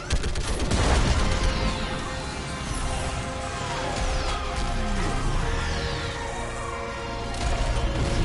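Dense, continuous barrage of gunfire and crashing impacts from an orbital strike in the Mass Effect 3 video game, loud and sustained throughout with layered blasts and whooshing debris.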